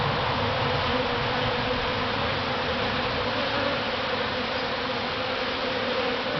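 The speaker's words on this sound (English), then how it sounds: "It's a whole lot of bees." A large honeybee swarm hums in a dense, unbroken drone, close and even in loudness from start to finish, with no voices.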